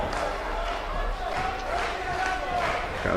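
A wrestling arena crowd in the video game WWE 2K18 keeps up a steady, dense roar throughout, with no break in the noise.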